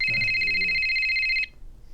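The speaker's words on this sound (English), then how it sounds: "Well, no, we got a phone call." A telephone rings with a loud, steady electronic tone for about a second and a half, then cuts off abruptly, while a voice speaks faintly under the start of the ring.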